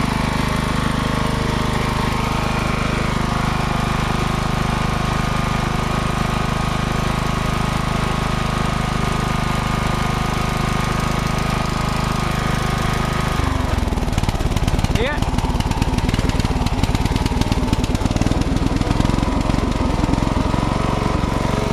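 A riding lawn mower engine runs with a steady, close, loud drone, then abruptly bogs and stumbles partway through before settling into a rougher, sputtering idle; someone talks briefly over it.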